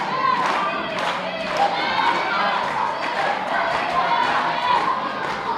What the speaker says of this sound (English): getting the crowd behind him